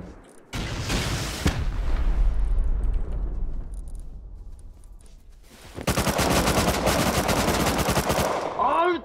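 Gunfire during an online raid in the video game Rust, rapid automatic bursts that are loud and close, with a sustained volley early and a dense rattling stretch later.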